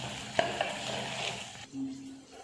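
A pan of green peas curry with turmeric and chili powder is stirred, giving a few scraping strokes over a soft steady sizzle, close and moderately quiet, with a brief low hum near the end.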